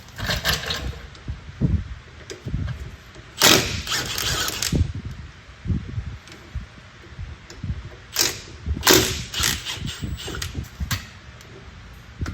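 Milwaukee power tool spinning off wheel bolts: several loud bursts of rattling impact mechanism separated by short pauses, heard up close with no voice.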